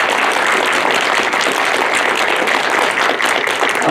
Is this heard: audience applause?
yes